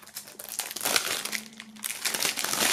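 Plastic foil is peeled and crinkled off a CD from a music bundle, close rustling and crackling throughout with a few sharper crunches and no one speaking.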